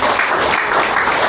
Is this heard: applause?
yes